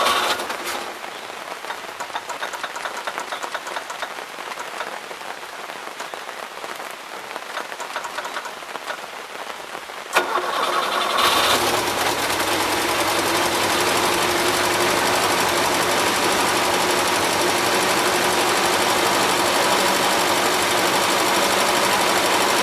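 A 1977 Gravely GMT 900 tractor engine running on old gas gives a faint rattling churn that suddenly catches, about halfway through, into a loud, steady, buzzing run.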